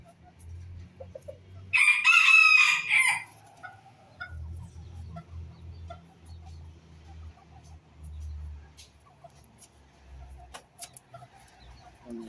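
A cocoa-colored bantam rooster crows once, loud and close, then hens and birds keep up low, steady clucking and murmuring in a pen for the rest of the time.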